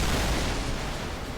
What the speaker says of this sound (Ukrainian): Удар сонячним вибухом.